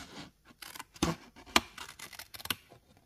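Scissors snip through paper card while a card pocket is being cut, giving a few short crisp cuts in quick succession, close and fairly quiet.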